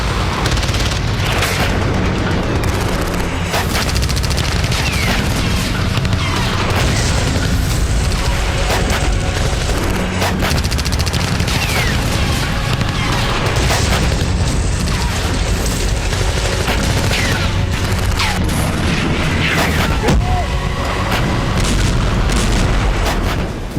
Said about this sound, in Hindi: देखिए जरा कैसे आसमान से मिसाइल गिरती है और टेंट बारूदी धुएं में उड़ जाता है।